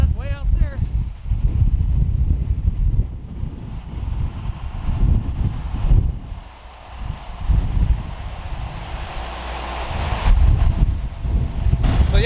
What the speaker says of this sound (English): we just got a huge gust of wind coming through.